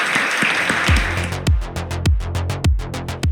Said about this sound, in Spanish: aplaudamos la memoria